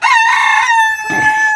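A rooster crows once up close, a loud, bright cock-a-doodle-doo drawn out over about a second and a half with a rising then held, slightly strained end.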